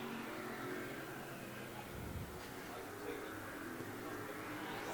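Modified race cars on a short oval roar down the backstretch, a steady far-off engine drone with a brief surge as one passes, under a race announcer's commentary.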